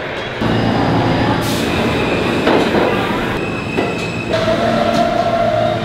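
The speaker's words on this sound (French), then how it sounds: "on va aller prendre le métro qui est là-bas" A New York City subway train rumbling loudly and close, with steady rolling wheel noise, rattling carriages and brief squealing tones partway through, continuous for several seconds.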